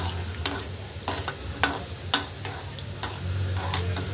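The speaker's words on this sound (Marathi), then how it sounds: "खोबरं असं लाल भाजलेलं आहे आपलं" Dry coconut roasting in a pan sizzles softly and steadily, punctuated by sharp ticking taps and scrapes of a stirring spoon at irregular intervals, close by and with no talking.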